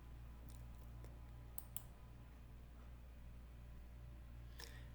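Computer mouse clicks while browsing a library database, a few faint, sharp clicks, two close together near the start and one late, over a quiet steady hum.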